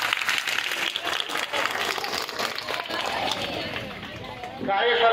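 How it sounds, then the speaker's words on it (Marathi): An audience at a retirement honour ceremony in Paranda applauds loudly for a girl's speech, a dense, steady wash of clapping that carries on throughout, with crowd voices mixed into it. "मुलीनं पुन्हा एकदा टाळ्या वाजवा जोरदार."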